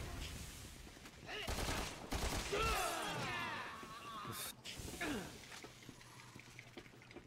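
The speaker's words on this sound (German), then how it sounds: "Ich hab mit dem Granatwerfer auf die geschossen." Grenade launcher shots and explosions in the video game Resident Evil 6, a series of loud bursts and crashing blasts with debris, heavy in the first five seconds and fading toward the end.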